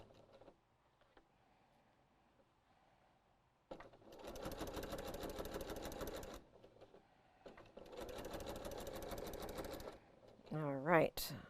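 After a quiet stretch, a sewing machine joins rows of a quilt-as-you-go rag quilt in two loud, steady bursts of fast stitching, each lasting a few seconds, close by, with a brief rising whine at the end.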